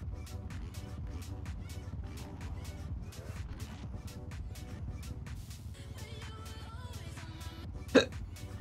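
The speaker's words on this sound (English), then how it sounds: "Can't stop burping." A motocross rider at a Sardinia race lets out a single short, sharp burp near the end, over a steady rhythmic engine drone.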